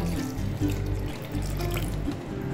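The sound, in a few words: pouring water into cucumber sherbet mix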